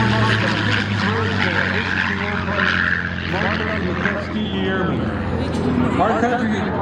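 A P-51 Mustang propeller fighter at the Wings over Camarillo air show, its engine drone loud and continuous under an announcer talking over the public address system.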